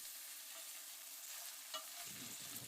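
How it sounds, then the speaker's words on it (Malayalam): Pepper powder, garam masala and coriander powder are stirred in a pan for a Kerala chicken stew, a faint, brief sizzle with soft scraping and no voices. "ഇനി ഇതിലേക്ക് കുറച്ച് കുരുമുളക് പൊടി, ഗരം മസാല, മല്ലിപ്പൊടിയും ചേർത്തിട്ട് നമുക്ക് നന്നായിട്ടൊന്ന് ഇളക്കി കൊടുക്കാം"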